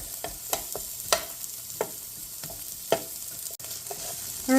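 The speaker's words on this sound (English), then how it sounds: "I have a little bit of the oil still in the pan, so on a medium heat, you want to brown the garlic" Garlic and onion sizzle in oil in a pan over medium heat, a steady soft frying hiss broken by several sharp clicks and scrapes of stirring, close and fairly quiet with no voices.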